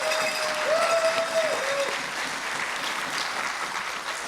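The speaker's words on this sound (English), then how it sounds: "So let's give them a round of applause." An audience at a Trans Pride awards and keynote event in Washington DC claps for volunteers, a steady dense burst of applause with a brief whistle-like tone near the start, fading slightly toward the end.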